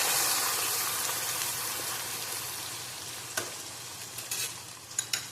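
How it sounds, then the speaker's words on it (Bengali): Onion paste sizzles in a pan on low heat as it gets stirred, a steady close hiss with a few sharp scraping and clattering strokes toward the end, no talking. "পেঁয়াজ বাটা দিয়ে ভালো করে এটাকে নাড়বো।"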